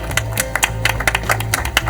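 Audience members clap at a quiz show prize ceremony as a third-place team receives medals and a cheque, producing sharp, uneven claps that sound fairly close, over a low background hum.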